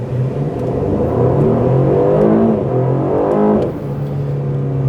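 A 2024 Aston Martin DB12 on Michelin Pilot Sport 5S tyres launches hard, its engine note climbing loudly through the revs for a few seconds before easing off at a gear change, with no talking.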